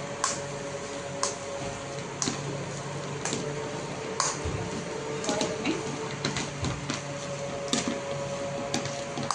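Pav bhaji vegetables mashed in a kadhai, a masher thumping and squishing against the pan in repeated, roughly regular strokes, close and fairly quiet.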